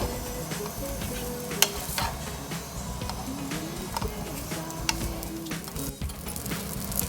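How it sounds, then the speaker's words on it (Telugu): Chicken murtabak roasting with ghee in a pan over a medium flame, a steady close sizzle with occasional soft stirring and tapping sounds. "నెమ్మదిగా మీడియం ఫ్లేమ్లో పెట్టి కాల్చుతాము లేకపోతే లోపల ఉడకదు హై పెట్టకూడదు"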